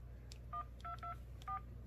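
Phone keypad tones while a passcode is entered: four short, clean dial beeps in quick succession over a low steady hum, quiet and close.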